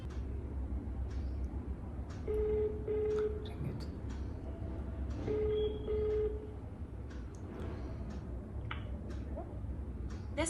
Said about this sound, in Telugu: సో నేనైతే ఇప్పుడైతే తనకు కాల్ చేస్తున్నాను